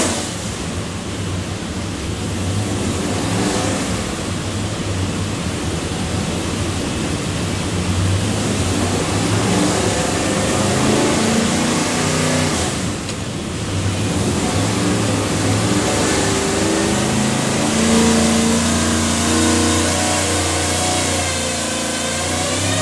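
A Whipple supercharged 427ci LS engine with a Dart block, hydraulic roller cam and Holley fuel management makes a dyno run, a loud dense continuous roar with shifting tones that swells and holds through the pull.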